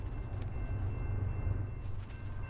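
An EMD SD70MAC diesel locomotive passing eastbound at sunrise, a steady loud low-frequency rumble and roar of the engine and rolling train, with no voices.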